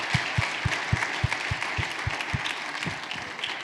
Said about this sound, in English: let's give Black & Veatch an incredible round of applause